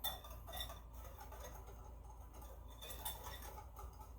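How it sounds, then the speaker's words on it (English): A whisk stirring sugar and salt into melted dark chocolate in a bowl, soft rhythmic tapping and scraping against the sides, faint and continuous with a few brighter clinks. "And now I'm gonna whisk the sugar and the salt in."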